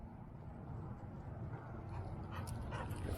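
A puppy whimpers faintly on a walk through a neighborhood, with soft high whines and yips near the end over a steady low rumble of outdoor and traffic noise.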